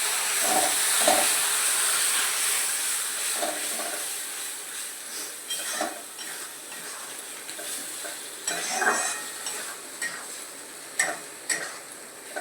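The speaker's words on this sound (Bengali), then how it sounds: "মোটামুটি পেঁয়াজটা ভাজা হয়ে গেছে, টমেটো দিয়ে দিলাম।" Onion and tomato sizzling in a pan, with a continuous frying hiss broken by repeated scraping strokes of a spatula stirring, close and fairly loud.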